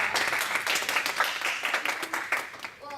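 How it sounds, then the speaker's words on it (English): Applause from a small audience at a student Toastmasters club meeting, a steady patter of clapping hands for about three seconds with dense, uneven claps, fairly close and moderately loud, fading slightly near the end. "Give her a round of applause."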